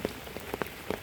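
Rain patters onto surfaces at a countryside house in late afternoon, scattered distinct drops tapping close by over a soft steady wash, no talking.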